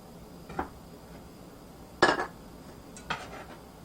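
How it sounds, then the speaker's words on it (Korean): A knife cuts soaked wakame seaweed on a cutting board while making miso soup, giving three separate short chopping knocks spaced apart over quiet background. "미역이 다 불려져서 미역을 두부와 비슷한 사이즈로 자르겠습니다"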